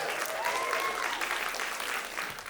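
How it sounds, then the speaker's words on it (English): An audience at a cookie baking competition final claps in a dense, steady burst of applause, close and sustained with a faint whistle or cheer over it. "Big round of applause for Tara from Apple Street Kitchen."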